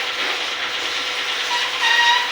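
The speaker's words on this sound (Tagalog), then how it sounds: "Una ka talaga yung settings spray. Bago ang foundation." Makeup setting spray misting in one steady, close, continuous hiss that lasts the whole moment and swells slightly near the end. No voices are heard.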